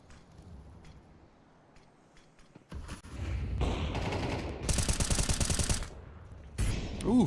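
Rapid automatic gunfire bursts from a Counter-Strike match, including a wallbang headshot through a wall, start after a quiet opening and come in loud dense volleys, then break off before a final burst.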